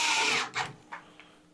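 An electric screwdriver whirs as it drives power supply screws into a PC case, one longer buzzing run followed by two short bursts.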